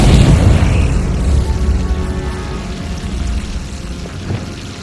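In the video game Hogwarts Legacy, a Confringo fire spell sets off a loud, deep booming explosion that slowly decays into a crackling, rain-like rumble over several seconds.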